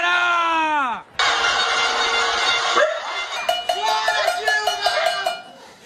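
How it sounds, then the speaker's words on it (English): Pots bang in a panelaço street protest in São Paulo, with loud, rapid metallic clanging in an uneven rhythm after a long drawn-out shout and a burst of crowd-like noise. "People were banging their pots,"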